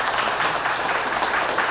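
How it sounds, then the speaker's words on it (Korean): Audience applause at an inauguration ceremony for a unification group's Daejeon headquarters, a dense, steady wash of clapping that stays loud and even throughout with no voices on top. "박수 한번 치자고요"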